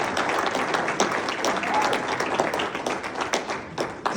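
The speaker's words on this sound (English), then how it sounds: "Let's give him a round of applause as he makes his way up" Audience clapping at a celebration event, a moderately loud, steady patter of many hands continuing throughout with slight swells, fairly close and without speech over it.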